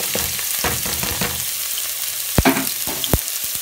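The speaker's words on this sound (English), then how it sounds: "To the hot oil, I'm gonna add my onions and pepper." Onions and pepper fry in hot oil, a steady close sizzle with a few sharp clinks and stirring knocks near the end, no talking.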